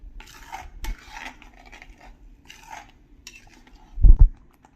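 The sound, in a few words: sautéing jackfruit gravy vegetable in a pan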